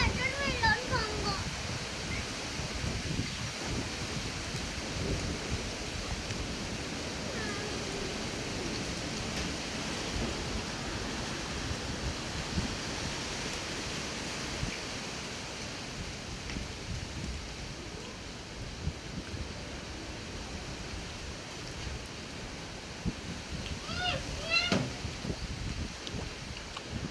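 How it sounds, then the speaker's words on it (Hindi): A strong storm with 100 km/h wind gusts and rain, a steady dense roar of wind and rain throughout, with occasional knocks and voices nearby. "तूफान तूफान।"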